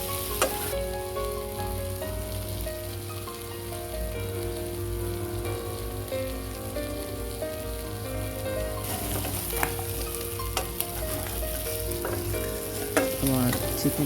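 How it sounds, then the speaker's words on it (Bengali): Chicken pieces for Bengali chicken kosha fry in a hot pan, giving a loud, steady sizzle with stirring and scraping clatter throughout, no voices. "আমার চিকেনটা ভাজা প্রায় শেষের দিকে। তারপরে আমি আরেকটু ভেজে নেব।"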